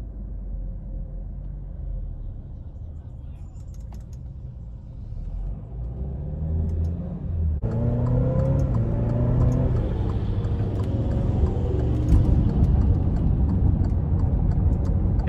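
A 2018 Alfa Romeo Stelvio TI Sport AWD engine heard from inside while driving, a steady low rumble that swells as the car accelerates partway through and then holds a louder, rising drone.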